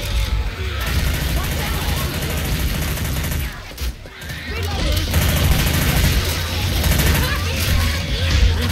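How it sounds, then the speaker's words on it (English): Gunfire in the zombie shooter Left 4 Dead 2 during a custom prison-break campaign, dense rapid bursts of shots with crashes and booms layered over game music, pausing briefly midway before resuming loud and continuous. "Okay, I'm shooting over here"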